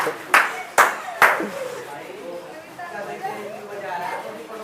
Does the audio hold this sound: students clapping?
yes